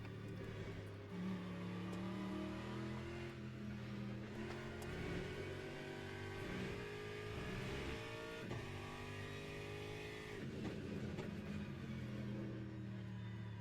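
Aston Martin race car engine in the sim game Le Mans Ultimate at Spa, droning loud and steady with rising and falling revs through gear changes and corners, alone with no talk.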